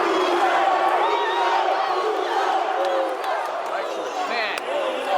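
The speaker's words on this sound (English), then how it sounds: "You can hear the crowd chanting Boozer right now." A large, electric NBA draft crowd chanting for Cam Boozer, a loud continuous wash of massed voices and whoops with rising shouts, heard close and unbroken.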